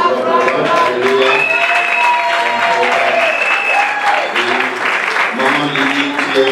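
Congregation at an international church convention applauding, steady clapping blended with cheering and raised voices throughout, loud and close.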